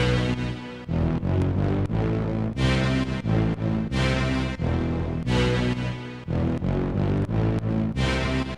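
Heavy brass lead synth, soloed in Ableton, blares in thick, buzzy sustained chords broken by short rhythmic gaps, loud and dense with no voices.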